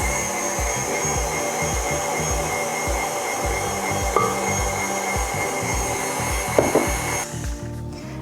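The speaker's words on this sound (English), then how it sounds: "I'm going to turn the mixer back on a medium speed, and I'm just going to add little bits of the condensed milk at a time" An electric mixer at medium speed whirs steadily while beating condensed milk into buttercream, a close continuous motor hum with rhythmic churning, easing off near the end.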